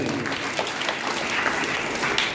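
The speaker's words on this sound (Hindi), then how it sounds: "जोरदार तालियां सबसे पहले" Audience at a village quiz competition held for Gandhi Jayanti in Jhothda applauds loudly, a steady dense clapping throughout without a break.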